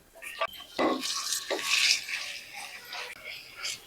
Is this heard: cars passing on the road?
no